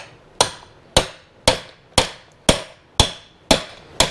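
Eight sharp, evenly spaced metal taps of a 1 1/8 inch socket being hammered onto an engine seal during a Dodge Chrysler 3.6 rocker arm repair, each strike loud and close with a short ringing decay.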